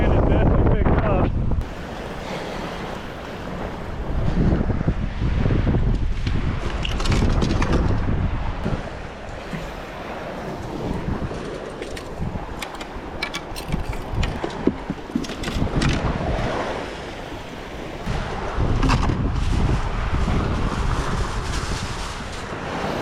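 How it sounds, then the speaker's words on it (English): Strong, steady wind out on the water in Mississippi buffets the microphone with a loud rumbling roar, and surf or water churns underneath throughout. "so wind is definitely picking up"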